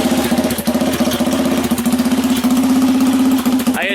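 A small engine runs loud and close right after a starter replacement, making a steady, throbbing putter with a rapid, even firing rhythm throughout.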